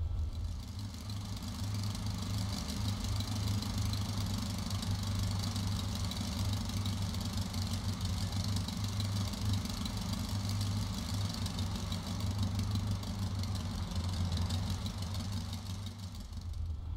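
A simulated aircraft engine idles steadily while the plane taxis in X-Plane 11, a continuous low droning hum that stays even and unbroken for the whole stretch with no voices.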